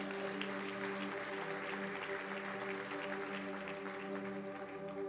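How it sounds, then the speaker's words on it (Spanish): A church congregation claps together at a Spanish-language service, steady crowd applause running throughout over a sustained organ-like musical drone. "Aplauda a Cristo y siéntate."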